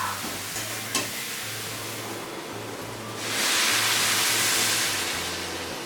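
Boiled soybeans and moong dal are stirred together in a pan, making a steady scraping, sizzling hiss that grows louder and brighter partway through, with a low hum beneath.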